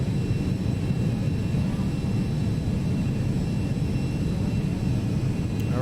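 Steady, loud jet-engine drone from a Cessna Citation XL560 climbing in the Prepar3D flight simulator. The broad rushing roar holds unbroken throughout, with no voices.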